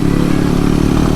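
A motorcycle on a rough mountain road on the long trail to Kayapa, Nueva Vizcaya, with a steady mid-pitched engine drone and rattling clatter, close and loud.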